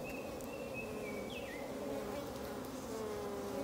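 A virgin queen honeybee buzzes while attacking a queen cell in the hive, with a continuous close droning hum of many bees and a faint high piping tone sliding through the middle.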